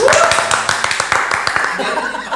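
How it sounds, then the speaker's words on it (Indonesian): Brief burst of clapping sound effect with a quick run of sharp hand claps, close and loud, mixed with a light chuckle and some voices. "tepuk tangan pakai efek"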